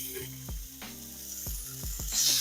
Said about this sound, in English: We're going to let them get a nice sear on them for about a minute, minute and a half.